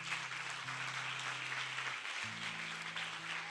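A church congregation claps steadily and evenly throughout, a dense far-off patter, while a low sustained organ or keyboard tone shifts pitch underneath.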